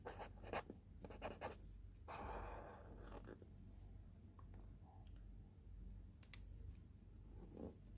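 A pen scratches and taps across paper while matrix-form equations are written out for a 9th-grade simultaneous-equations maths problem, in soft intermittent strokes and brief scribbles with quiet pauses, close and faint, with no talking.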